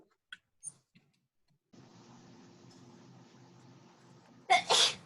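A single sharp sneeze bursts out near the end, following a few soft clicks and a low engine-like hum.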